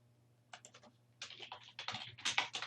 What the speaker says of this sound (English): I'm going to type property status